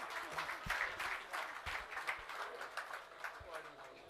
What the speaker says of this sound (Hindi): भरपूर तालियों में इस्तकबाल कीजिए खालिद महमूद